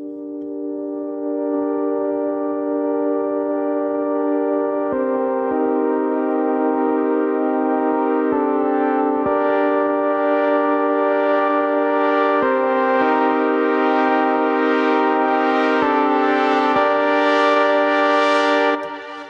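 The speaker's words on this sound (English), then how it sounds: "this stereo spreader thing, which just widens the kind of the mids and highs" A full music track with a stereo spreader widening its mids and highs, sustained harmonic synth chords shifting every few seconds while brighter upper layers build toward the end, loud and steady throughout.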